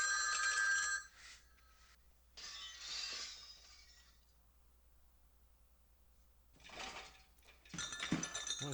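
Telephone bells ringing in the 1980 film The Fog: bursts of shrill, metallic ringing that start and stop, with quiet gaps between them and a louder, harsher clatter near the end.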